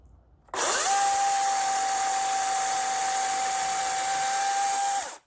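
A cordless power tool whirs up to speed and spins with a steady high-pitched whine for several seconds before cutting off abruptly.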